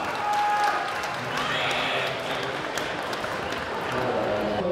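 Audience applause at a solo cosplay contest, a steady wash of clapping from a crowd that carries evenly from start to finish.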